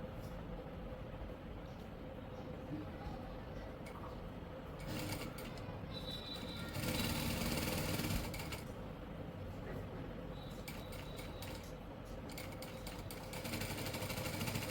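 A sewing machine runs in bursts while stitching a band collar on a kurti, with rapid rhythmic mechanical clatter that starts and stops, close by, while someone talks quietly in the background.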